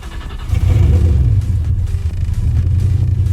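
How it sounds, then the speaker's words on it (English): A 1997 Ford Mustang engine, fitted with a new idle position sensor, idles at about 500 RPM, giving a loud, deep, steady rumble that swells slightly after the first half second and then holds even. "the RPMs are right around 500 idling"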